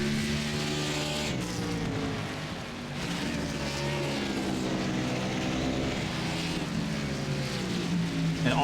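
A race car in the iRacing sim racing game at Mid-Ohio climbs through the gears, its engine note rising in pitch, cutting briefly on each shift and then rising again, loud and continuous with little talk.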